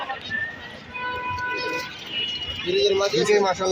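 Pigeons cooing close by at a pigeon market, the throaty coos growing stronger toward the end, with people talking and a few thin chirps in the background.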